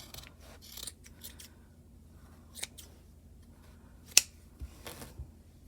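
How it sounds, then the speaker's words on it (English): Quiet, scattered snips of heavy-duty scissors cutting through crochet material, with one sharper crisp snip standing out among faint rustling. "Now we're going to cut this using heavy duty scissors."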